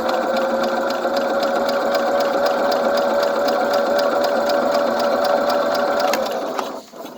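A Sears small engine runs steadily and loudly without choke, its fast, even mechanical chatter holding for about six seconds before abruptly cutting off near the end.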